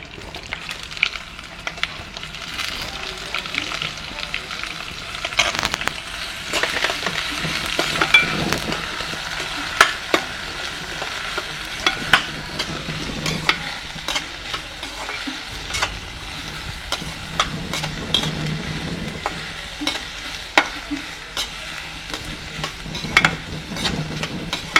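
Chopped onions sizzle and crackle as they fry in hot oil in a pan, a steady close-up hiss with frequent sharp pops and stirring scrapes, running without talk.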